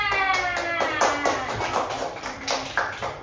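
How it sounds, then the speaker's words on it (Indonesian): Children in a preschool classroom give a short burst of applause, a few seconds of scattered, uneven hand claps at moderate loudness over a faint ringing tone in the room. "berilah aplaus sama Uma"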